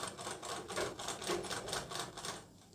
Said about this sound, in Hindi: अब यहाँ पर हम ये इस तरह से मोड़ करके यहाँ पर लगाते हैं सिलाई